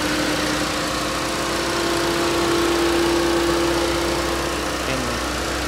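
The 1.8 liter turbocharged engine of a 2015 Volkswagen Passat runs at a steady idle, heard up close under the open hood as an even hum with a faint whine.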